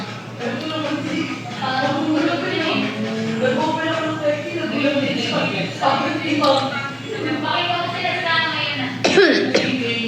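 One brief cough near the end of a Filipino live-selling stream, surrounded by steady, close conversational talking.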